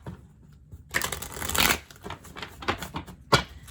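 A deck of tarot cards is shuffled close by, giving riffling, rustling bursts with a brief pause between them and a sharp flutter near the end.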